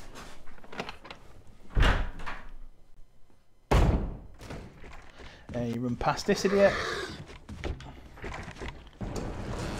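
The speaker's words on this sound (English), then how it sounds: "if you just heard that door opening, that means another zombie has just joined us from the top of the stairs" A door opens in the Resident Evil Remake HD video game, a sharp thump at about two seconds and another near four, set among game sounds while a player talks over it.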